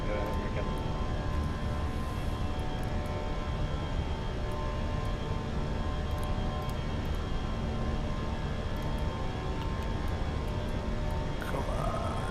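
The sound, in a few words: Fenix A319 jet taking off in Microsoft Flight Simulator 2024 video game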